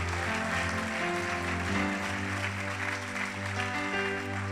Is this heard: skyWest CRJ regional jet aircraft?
no